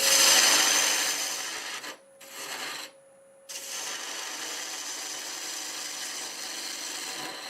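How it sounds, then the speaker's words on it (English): A freshly sharpened half-inch bowl gouge cuts into wood spinning on a lathe, giving a loud continuous rasping scrape that drops out briefly twice, then returns as a steadier, quieter shaving hiss. "freshly sharpened half-inch bowl gouge. And we'll cut this 45 on it"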